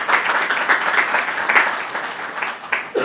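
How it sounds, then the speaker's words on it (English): An audience gives a round of applause at a logistics talk about the Mumbai Dabbawalas, a steady dense patter of many hands clapping throughout, with a few louder claps near the end. "A round of applause for Prerna"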